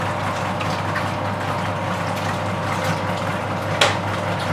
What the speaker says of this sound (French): On laisse mélanger.